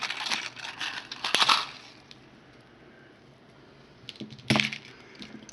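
Thin 18 gauge copper wire being snipped for a craft project, a couple of short crisp clips and rustles separated by a quiet gap, close and small.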